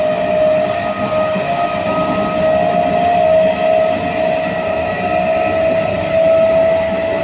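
An almost empty night train running from Ranaghat toward Bardhaman, a loud continuous rumble and rattle from inside the carriage with a steady high tonal whine, no voices.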